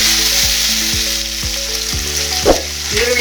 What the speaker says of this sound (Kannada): ಸ್ವಲ್ಪ ಬ್ರೌನ್ ಕಲರ್ ಬರೋವರೆಗೂ ಹಸಿ ವಾಸನೆ ಹೋಗೋವರೆಗೂ ಫ್ರೈ ಮಾಡೋಣ